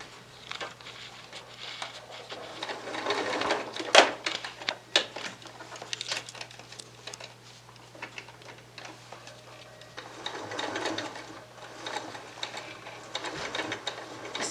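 A sewing machine stitching along an appliqué edge in white contrasting thread, steady mechanical ticking and whirring in short runs with pauses, close and moderately quiet, no voices.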